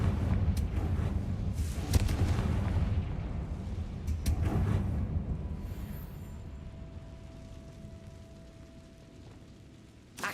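Confringo fire spell from Hogwarts Legacy bursting as explosions: a few heavy booms spaced a couple of seconds apart, each followed by a rolling rumble that gradually fades, with a small thud at the very end.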